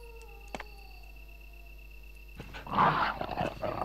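A dog snarls and growls in the Resident Evil video game, a short harsh burst rising near the end after quiet game ambience and a single sharp hit, with no talking over it.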